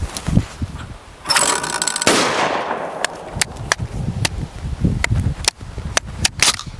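A Winchester Model 12 shotgun firing at clay targets outdoors, heard as sharp, loud cracks in an irregular string with brief gaps between them and a burst of noise early on.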